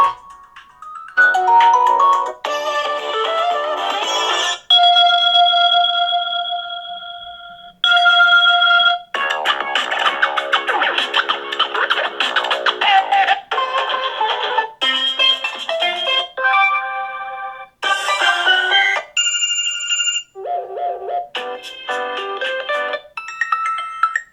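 A loud, bright ringtone from a Blackview BV8900 rugged phone's single bottom-firing speaker plays a series of melodic tones and chords, repeating phrases with brief gaps, close and clear with no talking.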